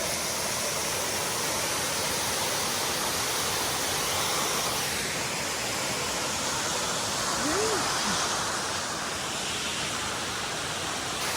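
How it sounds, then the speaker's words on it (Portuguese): Constant broadband rush of a waterfall in Scotland, loud and unbroken, with a brief faint voice partway through. "Tá aí a cachoeira?"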